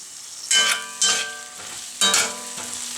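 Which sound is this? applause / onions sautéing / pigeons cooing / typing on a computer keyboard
onions sautéing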